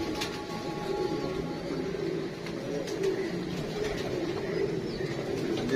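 Pigeons, including a pair of ringed birds, coo in a soft, steady, low murmur that carries on throughout, with faint background noise and occasional light chirps.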